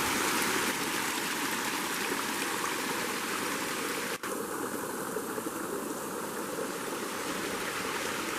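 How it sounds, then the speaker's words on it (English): Small waterfall on a forest stream in Idaho, a steady close rush of splashing water that fills the whole clip evenly, with no voices. "pretty little waterfall."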